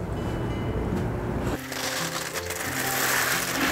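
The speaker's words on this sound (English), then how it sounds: "And I can just press the bananas through the sieve." Bananas pressed through a sieve: a dense, wet squishing and grinding that shifts in texture partway through, close and steady, with no voices.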